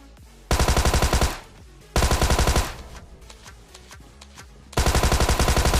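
Thompson submachine gun bursts in PUBG Mobile: three long, loud, rapid-fire strings of shots, each about a second, separated by quieter gaps with faint scattered shots.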